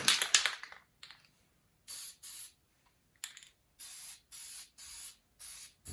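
Short bursts of aerosol spray paint hiss out one after another onto a masked section of a 1994 Jeep YJ, with pauses between each blast, close and clear.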